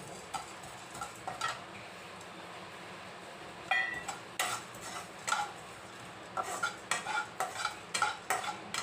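Whole mung beans are dry-roasted in a pan for laddoos, with a quiet rattling scrape as they are stirred in short bursts. The bursts come closer together toward the end.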